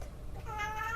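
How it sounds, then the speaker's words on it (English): A house cat meows several times in quick succession indoors, the calls rising clearer and louder toward the end over a low background hum. "I hear the dogs are up, cats are up."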